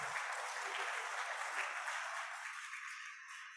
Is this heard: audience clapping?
yes